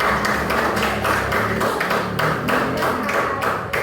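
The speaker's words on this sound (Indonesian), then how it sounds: "kita beri tepuk tangan untuk kelompok 4 yang mau tampil" A classroom of schoolchildren claps in unison for a group about to perform, a loud, rhythmic run of bright hand claps repeating at an even pace throughout.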